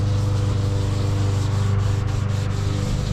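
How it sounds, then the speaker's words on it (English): A 240 grit pad sands a surfboard tail repair, producing a continuous, close rubbing rasp with steady back-and-forth strokes over a low background hum. "Just try to sand that nice and smooth."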